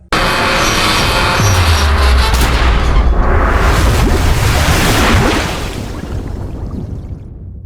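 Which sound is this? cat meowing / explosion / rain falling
explosion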